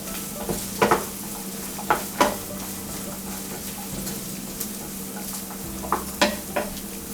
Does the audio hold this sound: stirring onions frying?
yes